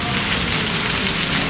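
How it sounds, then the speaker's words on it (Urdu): Heavy hail pounds steadily outside a flour mill during a storm over wheat fields, making a dense, loud, continuous rattling roar with no breaks. "سارا برف باری ہو رہی ہے، ژالہ باری ہو رہی ہے۔"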